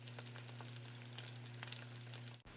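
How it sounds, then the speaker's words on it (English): Turkey pieces deep fry untouched in oil with a faint, constant bubbling crackle over a steady low hum, ending in a brief dropout. "I'm gonna let them fry untouched on one side for about 10 minutes."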